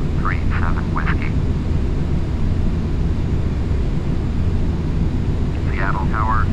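A Boeing 737 arriving at Seattle airport, heard as a steady broadband jet roar filling the whole stretch, with radio voices briefly audible over it at the start and end.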